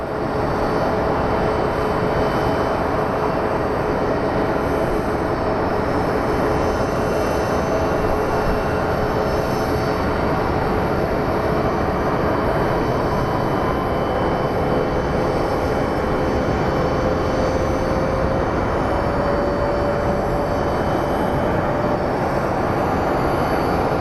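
An Alaska Airlines airliner in a special honoring-those-who-serve livery at Phoenix Sky Harbor airport produces a loud, steady broadband jet roar with a slowly rising engine whine, continuous and close throughout with no talking.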